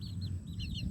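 A lovebird mimics a Messenger ringtone, repeating short high chirpy tones over a low rumbling background, faint and close.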